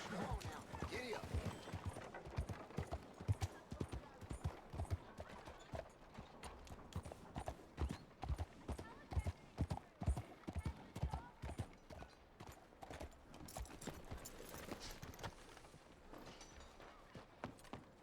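A horse's hooves clip-clop in steady rhythmic beats in the video game Red Dead Redemption 2, with some faint mechanical rattles alongside the footfalls.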